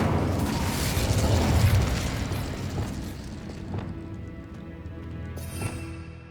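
Incendio fire spell cast in Hogwarts Legacy, a loud rushing burst of flame that roars for a couple of seconds and then fades into a softer crackling tail, with a faint later flare, no talking.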